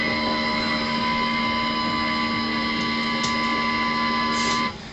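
A small electric auxiliary crane on the foredeck of the tug Abeille Liberté whines with a steady, close motor hum carrying sustained tonal overtones, running continuously for several seconds before cutting off abruptly at the end.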